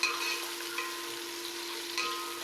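Chopped tomatoes and green chillies fry in a pan for kadhi while being stirred, giving a steady, quiet sizzle with a few soft scraping touches and no voices.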